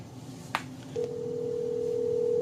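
A short click followed by a steady electronic ringback tone on a phone line, played through an Anker PowerConf S500 portable conference speaker, continuing evenly and fairly loud with no talking.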